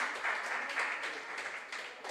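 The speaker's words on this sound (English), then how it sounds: "So can we give a round of applause to Eliza Amwa Mensah" Applause from an audience at a junior science and maths quiz contest, a steady broadband patter of many hands clapping at moderate distance, continuous throughout without talk.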